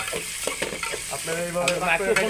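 Chicken frying in hot oil for khichuri, a steady sizzle with stirring scrapes and a few clinks of a utensil against the pan, close and fairly loud throughout.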